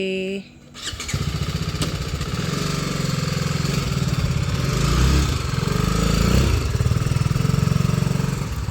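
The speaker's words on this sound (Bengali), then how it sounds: "এখন বাইক ঢোকাচ্ছে" A motorcycle being wheeled into a house after a ride home, its engine running steadily and loud up close for several seconds, with a short squeal near the start.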